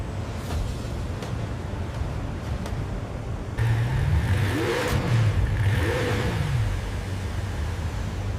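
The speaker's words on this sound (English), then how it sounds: "The engine roars to life." Engine of a Kawasaki Ninja H2R motorcycle revving, a steady loud drone that jumps in level and sweeps up and down in pitch through repeated throttle blips, alone with no voices.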